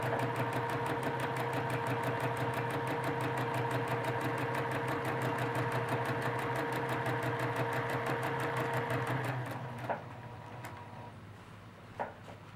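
A sewing machine stitches narrow double spines, a fast, even mechanical chatter with a humming motor that runs steadily before slowing and stopping, followed by a few faint clicks and handling sounds.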